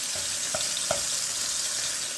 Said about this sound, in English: we're gonna move it into that mayonnaise so it's kind of frying itself in that mayonnaise mixture